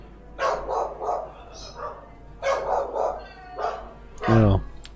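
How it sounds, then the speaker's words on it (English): Several dogs barking indoors in a house, sounding unusually agitated, with bursts of barks coming in rhythmic clusters and ending in a loud close bark; a voice talks over part of it. "Oh, sorry, that's my dogs."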